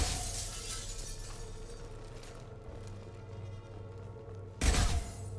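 A heavy blow strikes reinforced glass in the video game Mass Effect 2 without shattering it. One sharp, loud crack-like impact cuts through a steady low hum of game ambience.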